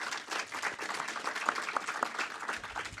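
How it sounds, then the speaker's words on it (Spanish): An audience applauds to welcome guests at a master class during an international festival, a steady dense wash of many hands clapping close by. "Les pido un aplauso para recibirlos."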